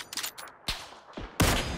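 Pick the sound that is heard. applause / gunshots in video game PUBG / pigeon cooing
gunshots in video game PUBG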